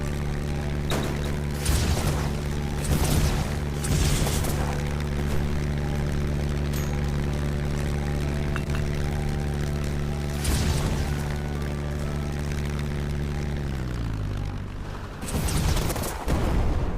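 Missiles fire in Black Skylands as a series of sharp booming bursts over a steady droning engine hum, with clustered volleys near the start, a single burst in the middle and a heavy blast at the end.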